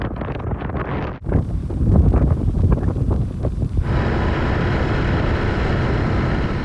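Strong wind buffets the microphone in loud, steady gusts, with a rough roar that fills the whole clip and no voices.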